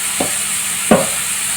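Sliced onions cooking in oil with salt and turmeric for mango prawn curry, a steady soft sizzle marked by two scraping stirs of the spoon, the second one louder.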